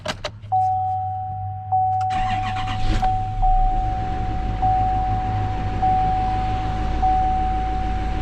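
A 2017 Chevrolet Silverado 2500HD truck engine starts and settles into a steady idle, close and loud, with a constant whine riding over the low rumble.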